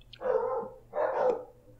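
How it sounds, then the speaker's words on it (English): Dogs barking in a house: two loud, close barks about a second apart, with nothing else heard. "There's my dogs."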